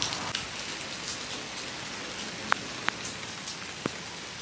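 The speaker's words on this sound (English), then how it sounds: "It's raining today." Steady rain patters on a surface, a soft continuous hiss with a few sharper drips standing out now and then.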